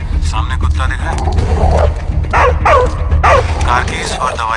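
A dog barks several times in quick yips and barks, close by and loud, over a constant low rumble and voices talking.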